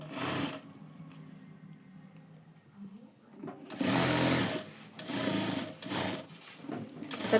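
A sewing machine stitches the lining onto a blouse sleeve in bursts, a close, fast mechanical whirring that starts and stops several times, with brief quiet pauses and faint handling noises between runs.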